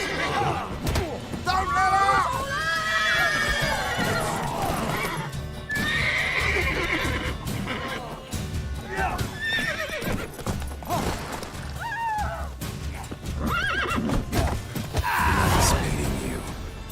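Horses in The Witcher 3 whinny and neigh repeatedly amid clopping hooves, thuds and game sound effects, loud and close, with voices talking over parts of it.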